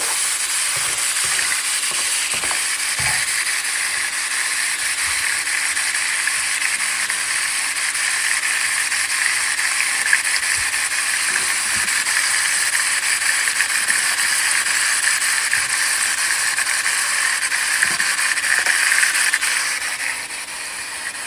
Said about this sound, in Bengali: তেল গরম হয়ে আসলে তারপরে ওটার মধ্যে গিয়ে চিংড়ি ছেড়ে দিলাম